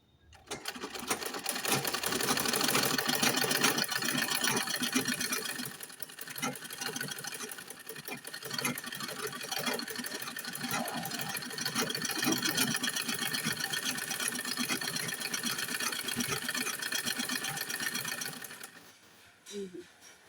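Sewing machine stitching the neck fabric of a kameez: a continuous rapid mechanical whir and clatter running nearly twenty seconds, close and steady, with a brief stop and restart at the end and no talking.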